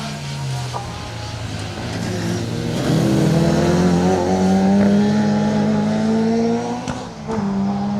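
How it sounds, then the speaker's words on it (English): An MG ZR rally car and another rally car race along a stage, engines loud and steady with a revving, rising drone that swells after a few seconds and briefly dips near the end. "made mincemeat of the MG ZR on the back straight, finds its way past as it heads out of our view"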